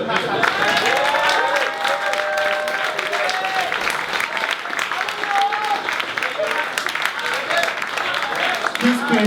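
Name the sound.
audience applause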